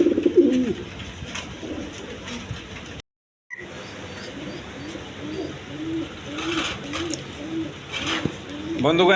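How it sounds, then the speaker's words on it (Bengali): A pair of high-flying Giribaz pigeons coo softly in low, rolling calls amid background chatter and rustling, with a brief dropout partway through. "এখানে এক পেয়ার হাই ফ্লাইং গিরিবাস কবুতর আছেন"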